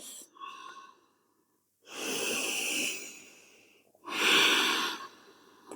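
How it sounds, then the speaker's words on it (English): Slow, deep breaths during a hatha yoga session, two long airy exhales of several seconds each, close and clear, separated by quiet pauses after a shorter opening breath. "Exhaling forwards. Breathing in."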